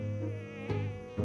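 Close insect buzzing, like a swarm of mosquitoes, whines steadily throughout and swells briefly twice; nobody speaks.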